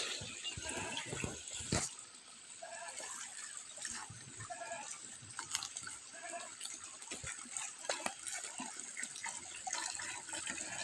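Cold spring water runs steadily beside a mountain path. The flow is close and continuous, splashing and gurgling, with a few sharper knocks and no speech.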